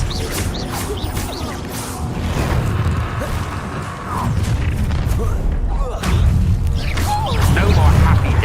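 Confringo blasting-spell explosions in Hogwarts Legacy, thudding booms and crashes over busy combat noise, with speech-like voices mixed in throughout.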